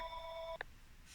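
A telephone gives a brief electronic ring of steady tones that cuts off after about half a second, then one short beep, faint and alone with no talking.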